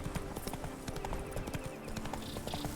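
Roach the horse gallops in The Witcher 3, with rapid, closely packed hoofbeats drumming near and steady over a busy game soundscape.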